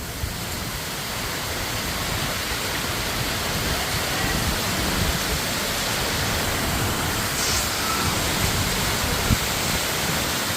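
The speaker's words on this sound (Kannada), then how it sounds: "ಅಷ್ಟೊಂದು ಮಳೆ ಬರ್ತಾ ಇದೆ ಈ ಎಂಥ ಗಾಳಿ ಬರ್ತಾ ಎಂಥ ಮಳೆ" A downpour with gusting wind in Mysore gives an unbroken, loud hiss that holds evenly throughout.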